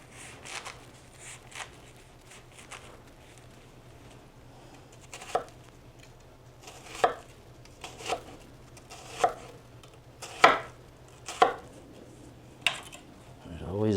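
A kitchen knife dicing an onion on a cutting board, giving a run of sharp chops at uneven intervals, loudest in the second half, with quiet background noise between the cuts.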